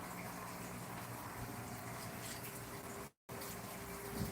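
Water drains out of aquarium tanks with a continuous, even rushing hiss. The flow cuts out for a brief moment, then resumes at the same level.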